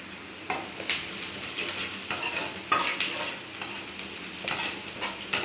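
Onions sautéing for fish kuzhambu sizzle steadily in a pan, with repeated scrapes and clinks of a ladle against the metal as they are stirred, close and without talk.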